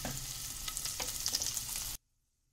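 A green chili hits hot oil in a pan for Mumbai-style kanda poha, giving a loud, dense, crackling sizzle up close for about two seconds before it cuts off abruptly.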